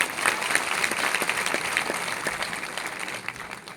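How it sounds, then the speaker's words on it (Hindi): Audience at a meeting applauds in a broad, steady wave of clapping that fades slightly toward the end, heard alone without talk. "एक बार इनके सम्मान में हम लोग तालियां बजाएंगे।"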